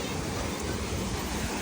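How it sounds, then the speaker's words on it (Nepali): A river rushes near a village waterfall, a dense, steady roar of water close to the microphone with no breaks or voices. "हामी त खोलाको नजिक आइसकेको छौँ"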